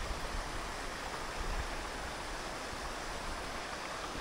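Steady rushing water from a waterfall in a Turkish valley, a continuous broadband roar with no pauses, fairly close and constant throughout, with no voices.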